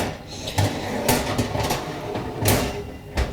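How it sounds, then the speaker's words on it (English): Metal baking tray slid into an oven rack at the top of a home oven: a few scraping, clattering metallic knocks and a sliding rasp, close up, with short clanks spread over a few seconds. "taking a tray and putting it as high up the oven as it'll go"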